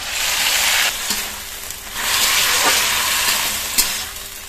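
Washed greens hit hot oil in a pan with a loud, hissing sizzle that swells in two bursts and then eases, with small clatters from the pan, up close and without speech.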